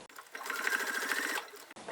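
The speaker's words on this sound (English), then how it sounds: "we're just going to sew all the way around." Sewing machine stitching around the edge of a reversible tote bag, a quick even whirring run of stitches lasting about a second and a half, close and alone.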